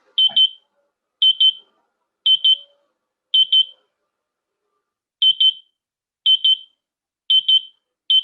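Loud, high-pitched electronic beeps from an alarm panel's exit delay, in quick double pairs, repeating at a steady interval of about one second, with nothing else audible.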